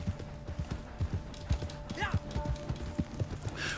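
Turtle the horse gallops in a Rockstar Games video game, hooves clip-clopping in a quick steady rhythm, with a brief whinny-like sweep and someone talking over it.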